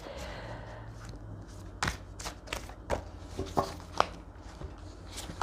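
Oversized Lenormand cards being shuffled by hand, giving soft scattered slaps and rustles that are quiet and close, with no talk over them.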